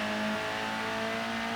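A BTCC touring race car engine at Bathurst in the Assetto Corsa racing game drones steadily at a constant pitch, with a sustained tonal whine and no voices over it.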